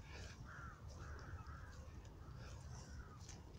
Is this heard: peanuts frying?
no